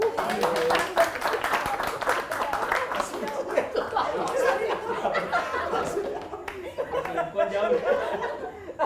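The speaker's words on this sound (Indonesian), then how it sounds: "Tepuk tangan buat laki-laki" Audience at a comedy open mic in Maluku claps in a brisk burst mixed with laughter and chuckles, fairly close and lively, with a voice talking over parts of it.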